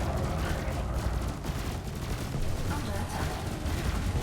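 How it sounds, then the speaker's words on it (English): Laser weapon fire in the Elite Dangerous space combat game hits an enemy shield, a dense crackling barrage of rapid bursts at constant loudness with no pauses. "in my fire group 1, I'm gonna fire trigger 1. This is my laser"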